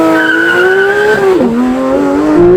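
Porsche 911 GT3 with a 4-litre flat-six launching off the line in a drag race against a BMW M4 CSL, a loud, close, rising engine wail that drops sharply at a gear change and then climbs again, with no talk.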